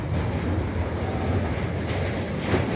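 The Gangakaveri Express 12669 rolls slowly, heard from inside an AC 3-tier coach as a steady, close rumble of wheels and carriage with faint rattling and no voices.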